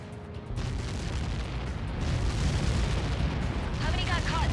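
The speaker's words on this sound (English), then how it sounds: "How many got caught in that explosion?" A massive impact explosion in the aerial combat game Ace Combat 7: Skies Unknown, a sustained loud, deep roaring rumble that swells slightly and holds for the whole stretch, with a faint higher sound near the end.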